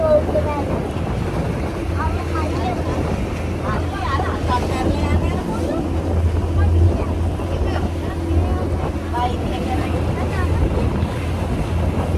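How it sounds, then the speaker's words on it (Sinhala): A boat moves over water at Nuwara Eliya, engine drone and splashing waves under gusty wind buffeting the microphone, with voices faintly mixed in. "බෝට්ටු."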